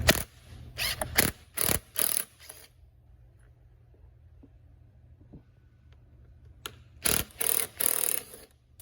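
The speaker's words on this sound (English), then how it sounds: "remove the T27 bolts that hold the strap harness on the back frame" A hand ratchet removes T27 bolts from the back frame of an Echo backpack blower: four quick clicking bursts, a quiet pause, then another run of rapid ratcheting, close and crisp.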